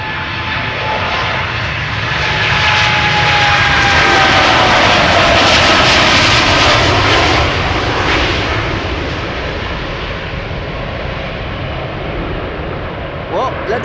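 Boeing 787 Dreamliner jet climbing out after takeoff at Schiphol Airport, a loud, continuous broadband engine roar that swells and holds steady for the full stretch, with faint talk in the background.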